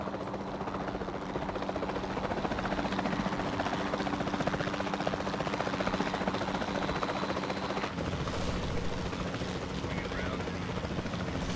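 A helicopter drones steadily throughout with a dense, rapid rotor chop, loud and close, with voices talking faintly beneath the engine noise.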